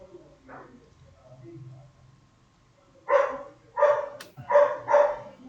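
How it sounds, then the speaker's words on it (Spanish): A female puppy barks four times in quick succession, loud and close, after a stretch of quiet murmuring voices and soft background sounds. "Esa mi cachorra la tienen alborotada,"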